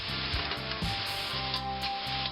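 Mushrooms cook down in a pan with a steady, close hiss of sizzling, broken by a few soft stirring bumps and a low hum underneath. Nobody speaks.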